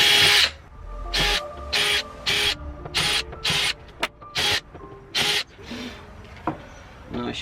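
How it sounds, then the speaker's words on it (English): A power drill pre-drills screw holes, whirring in about nine short bursts of roughly half a second each, separated by pauses with quiet handling noise. "pre-drill so I know where the screws go from underneath."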